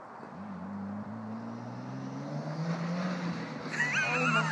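A Nissan Skyline accelerates in second gear, its engine note climbing steadily and continuously. The sound is loud and close, with a brief higher whine rising near the end.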